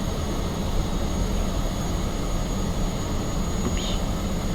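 A MiG-15 jet in the DCS flight simulator, flying slow with gear down on a landing approach, produces a steady, even engine roar that holds at one level throughout.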